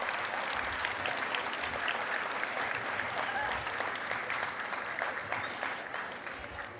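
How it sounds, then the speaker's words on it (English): A large youth audience at a Latino youth conference claps together in sustained, dense applause, steady and loud throughout before easing slightly at the end. "A big clap, big clap"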